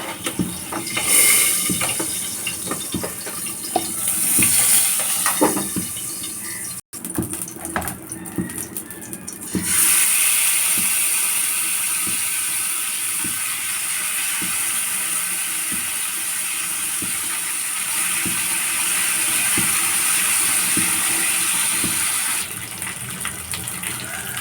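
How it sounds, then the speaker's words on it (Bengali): Pangas fish frying in a pan, a steady hissing sizzle that swells and settles over a long stretch, with occasional clinks and shifts, no voices. "তারপরে এটা আমি ভালো করে মাছটা ভাজছি।"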